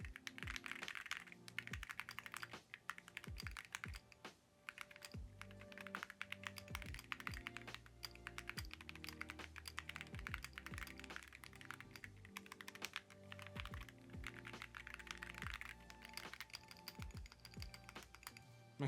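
A Neo 80 mechanical keyboard is typed on up close, a fast, continuous run of crisp clacks and thocky keystrokes with occasional heavier spacebar hits, heard alone without talk.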